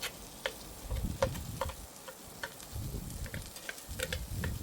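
Peach BBQ chicken with broken-up peaches simmers in a cast iron pan, giving a low bubbling sizzle with scattered soft ticks and pops of stirring throughout, no voices.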